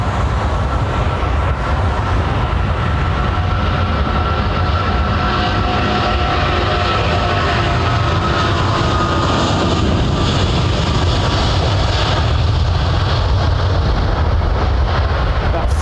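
Boeing 777 airliner at London Heathrow, a loud continuous deep rumble of engines holding steady for the whole stretch, close and powerful with no break.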